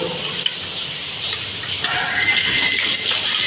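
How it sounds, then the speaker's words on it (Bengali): Heavy rain pours outside in a continuous dense hiss, steady and enveloping, growing slightly fuller partway through with no voices. "বাইরে অনেক বৃষ্টি আছে"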